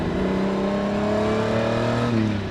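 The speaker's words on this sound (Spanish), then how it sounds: "El sonido de este motor V12" Lamborghini Countach V12 engine revs hard nearby, a loud, smooth, rising mechanical howl with a brief drop in pitch near the end, with no talking.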